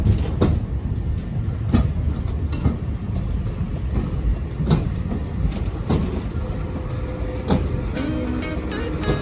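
A Class 465 electric train passes through Orpington station with steady rolling rumble and rhythmic clacks of wheels over rail joints, loud and close, without talk.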